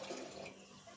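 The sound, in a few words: water being poured into tamarind lentil rasam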